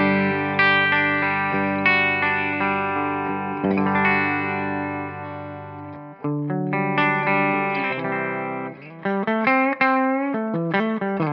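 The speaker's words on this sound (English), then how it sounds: "I am playing my Gibson Les Paul Standard 60s today." Gibson Les Paul Standard 60s electric guitar on its bridge pickup, played clean through a Suhr Badger-style amp tone, with chords ringing and then a run of quicker picked notes. The guitar is loud and close, with no voice.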